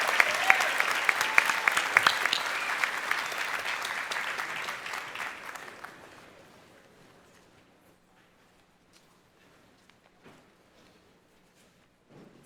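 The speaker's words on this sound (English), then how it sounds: "Let's give our very inspirational commencement speaker, Dr. Pelosius, another round of applause" Audience applause for a commencement speaker at a university ceremony: loud, dense clapping with a few sharp close claps that fades out after about six seconds, leaving near silence broken by scattered faint taps.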